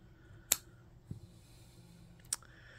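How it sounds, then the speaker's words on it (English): Scissors snipping packaging thread on a Berkshire Life Eco Soft blanket, two sharp close clicks about two seconds apart with a faint tap between, quiet room otherwise. "So we're going to cut that one as well."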